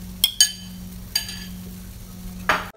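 Skimming foam off a fish stew simmering in a clay pot, with a few light clinks and scrapes of a utensil over a steady low hum and a brief soft sizzle near the end.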